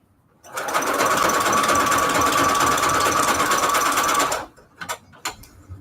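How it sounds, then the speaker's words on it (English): A sewing machine stitches a zigzag seam, attaching a doily for a layered Valentine's Day embellishment: a near, steady, rapid mechanical whirring that runs for about four seconds and then stops, with a few handling clicks after. "I'm going to sew this on here with a zigzag stitch."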